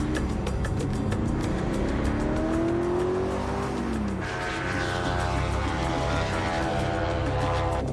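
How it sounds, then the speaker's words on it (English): A V8 car with 360 horsepower races a propeller plane, giving a loud continuous engine roar with a rising revving tone, a tire squeal, and a steady propeller drone layered throughout. "The car has a V8 engine with 360 horsepower."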